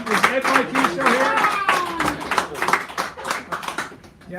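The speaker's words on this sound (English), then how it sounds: "Mr. Pond, give him a round of applause." A small café crowd at a poetry hour claps for a poet: a handful of distinct, uneven hand claps close by, overlapping with a speaking voice throughout.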